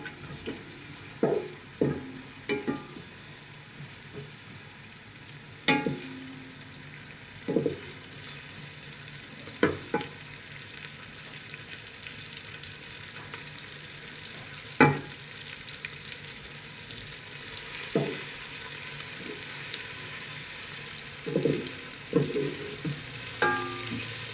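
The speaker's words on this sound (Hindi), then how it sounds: "प्याज को थोड़ा सा भून लेंगे।" Onions frying in a pan for a matar gosht curry, a low steady sizzle running throughout, broken by repeated sharp clinks and scrapes of a utensil stirring against the pan.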